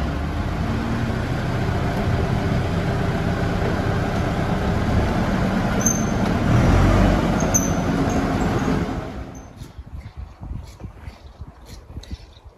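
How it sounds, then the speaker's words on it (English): A tractor tows a military vehicle on an A-frame out of a shed, giving a loud, steady engine drone with low rumble that swells briefly, then cuts off into quieter scattered knocks and rattles near the end. "we're going to use the A-frame and we're going to tow it out using the tractor"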